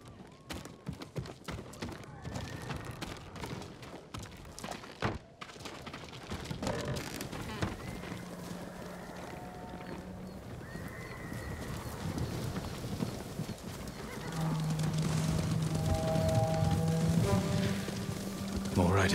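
Horse hooves clip-clop steadily through a video game scene, layered with game music and voices, with no clear whinny standing out.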